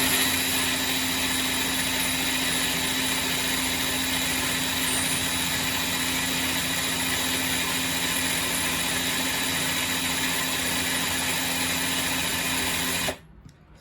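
A power drill coiling wire runs continuously at a steady, high-pitched whir for over ten seconds, then cuts off abruptly near the end.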